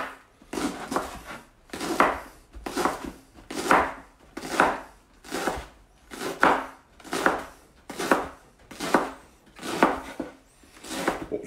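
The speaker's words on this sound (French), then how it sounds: "le poireau, vous le coupez de cette façon-là, par au-dessus" A knife chops through leeks on a board in a steady run of about a dozen evenly spaced, crisp cuts, each ending in a soft knock on wood, heard close and alone.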